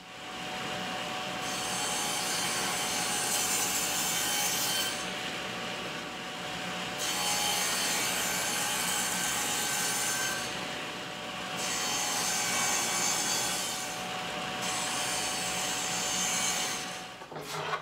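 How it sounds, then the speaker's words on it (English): A saw cuts 3/4-inch solid pine boards to size in a workshop with dust collection running, giving long rasping strokes in several bursts with short pauses between, loud and close under a constant whooshing hum, with no talk. "Now we can cut these guys to size."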